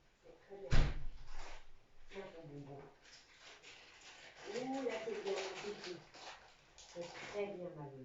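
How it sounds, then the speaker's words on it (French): A door is shut with a single solid thump near the start, set among close indoor conversation as people keep talking before and after. "Je vais aller fermer la porte"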